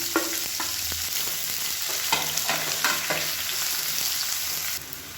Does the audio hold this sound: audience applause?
no